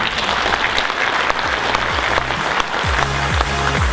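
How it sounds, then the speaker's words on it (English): Audience applause fills a hall at an international business summit in Selangor. Many hands clap loudly and evenly throughout, with faint music tones rising underneath toward the end. "please give him a round of applause"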